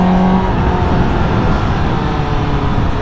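A four-cylinder A2-licence motorcycle engine running steadily under load on a road ride, a loud continuous drone with rumbling low end, close and constant throughout with no speech over it.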